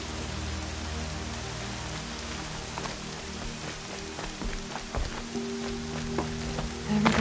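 Steady video game rain patter on PS4 with scattered droplet ticks over a low rumbling hum, continuous and fairly close throughout.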